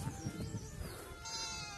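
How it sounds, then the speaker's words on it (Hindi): Goats kept for goat farming in a village in Salt, Uttarakhand bleat in a loud, wavering, drawn-out call close by, filling the moment with no talk. "बकरियों से, बकरी पालन से रोजगारी इसी से है"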